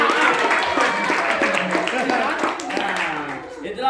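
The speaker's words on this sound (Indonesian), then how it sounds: "Tepuk tangan itu Pak ya." Audience at a team presentation in a Medan training programme gives brief applause, scattered clapping mixed with voices and chatter, fading slightly toward the end.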